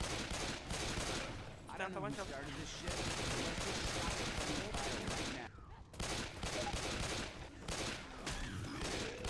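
Rapid gunfire bursts from the zombie shooter Left 4 Dead 2 play almost continuously and loudly, with a brief lull near the middle, mixed with game noise and voices talking over it.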